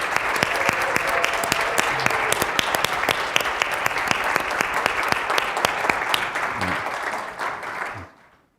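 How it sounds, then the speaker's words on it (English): At a healthcare startup demo day, a standing audience applauds the mentors with a long, full round of clapping, crisp individual claps popping over the dense roar before it tapers off and fades to quiet. "we'd like to take this opportunity and ask you to stand so we can give you a round of applause"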